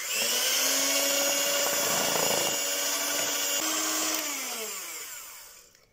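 An electric mixer beats vanilla sponge cake batter in a bowl, a steady loud whirring motor whine that holds for several seconds, then winds down and stops.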